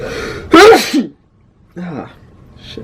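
A single loud, close sneeze followed by a short muttered exclamation, then another voice speaking briefly.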